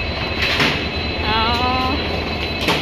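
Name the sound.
train station platform with train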